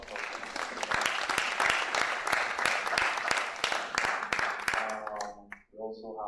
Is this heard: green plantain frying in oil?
no